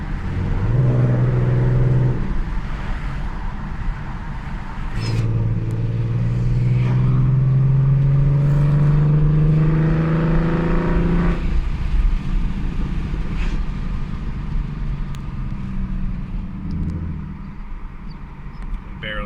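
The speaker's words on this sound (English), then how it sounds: "Barely touching the gas pedal, and you can already hear the exhaust." Ford Mustang 3.7 V6 with Borla ATAK exhaust, shorty headers, H-pipe, resonators and cat delete, heard from inside with windows down, giving a loud droning exhaust rumble that rises steadily under light throttle, then settles into a steady cruise.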